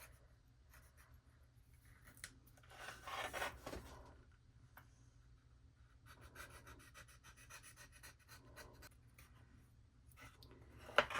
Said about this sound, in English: you're going to take the blade and go right on the side and trim it up just like that.